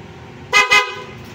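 Two short, loud honks from the stock horn of a Honda ADV 150 motorcycle in quick succession, bright and buzzy, over a quiet idling background.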